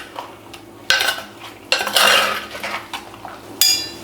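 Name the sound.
stirring dry fish raw mango curry in a pot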